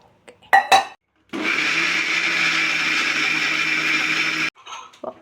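An electric mixer grinder whirs steadily for about three seconds, grinding soaked chickpeas, green gram and green peas with water. Short clatters of handling the jar come just before and after.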